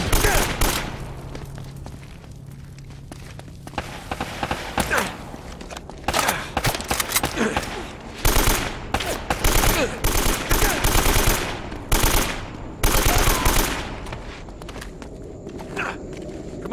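Gunfire in the game Uncharted: Drake's Fortune, with repeated bursts of shots spread across the stretch, separated by quieter gaps that hold footsteps and ambient game noise.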